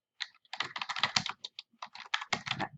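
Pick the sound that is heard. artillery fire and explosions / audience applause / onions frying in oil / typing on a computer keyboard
typing on a computer keyboard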